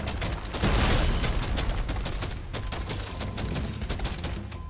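Dense video-game gunfire crackles in rapid, overlapping bursts, loud and close, with a heavier volley near the start and steady shooting continuing throughout.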